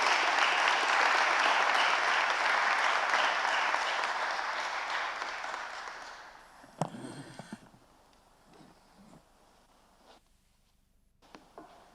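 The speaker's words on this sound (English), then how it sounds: "Please, let's give a big round of applause to our PhD graduate." Audience applause for a PhD graduate at a ZLC commencement ceremony, sustained and full at first, then fading out. Scattered rustling and small handling noises remain in the quieter room afterward.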